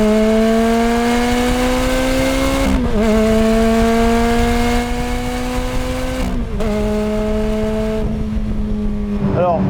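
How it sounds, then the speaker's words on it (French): A Ferrari F430's 500-horsepower engine roars loudly from inside the car while driving, rising in pitch through each gear with brief dips at the shifts around three and six seconds, continuous and close. "tu roules dans une Ferrari de 500 chevaux moderne qui hurle"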